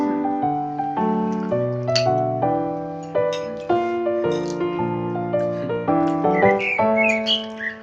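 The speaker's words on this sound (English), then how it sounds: "even birds sing for you." Whistled, melodic birdsong rings out loudly and close, a run of clear, varied notes repeating with short pauses through the whole stretch, on a trip to Antibes, France.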